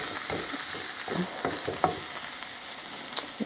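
Potatoes and onions fry in a pan, a dense constant sizzle with scattered scraping and stirring knocks close to the mic, no talking over it.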